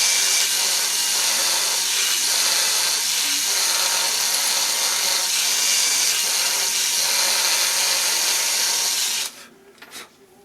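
A power drill with a larger bit reams out a pre-drilled hole in an antler knife handle, grinding loudly and steadily for about nine seconds before stopping abruptly, leaving faint handling noises.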